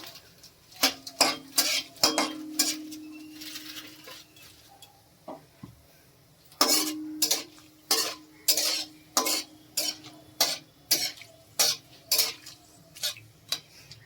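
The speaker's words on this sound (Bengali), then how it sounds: "ফোড়ন দিয়ে দেব গোটা জিরে, গোটা গরম মশলা, তেজপাতা, লবঙ্গ, দারচিনি, এলাচ, একটা শুকনো লঙ্কা" Whole cumin, garam masala, bay leaf, cloves, cinnamon, cardamom and a dried chilli go into hot oil, with repeated metal spoon scrapes and clinks against the pan in irregular bursts over a soft sizzle, close and fairly loud.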